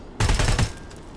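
A short rapid burst of gunfire in the video game Terminator: Resistance, several close, loud shots fired in quick succession that cut off abruptly and leave a brief fading tail.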